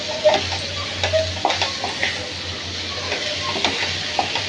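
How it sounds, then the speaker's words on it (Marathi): Tinda and dhemse vegetables with masala are being sautéed in a pan over low gas, a close, steady sizzle broken by repeated scraping stirs and light clinks of the spatula, with no talking. "थोडं परतून घेऊया म्हणजे मसाला सगळ्या भाजीला लागेल"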